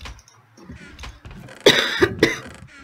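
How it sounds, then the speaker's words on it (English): A person coughs several times in quick bursts, loud and close, after some quieter throat sounds, during a Minecraft Skywars gaming session. "I still have a cough"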